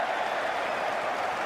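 A stadium crowd at an Ashes Test cricket match cheers and applauds a boundary, a dense, sustained roar of voices and clapping that fills the whole moment without a break.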